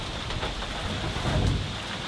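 Steady rain hisses in a dense, even wash, with a slightly heavier patter swelling briefly near the end.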